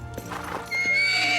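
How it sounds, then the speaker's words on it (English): A purebred horse neighs loudly and close by, a long shrill whinny rising out of a few hoof clops. "He's the best horse in the world."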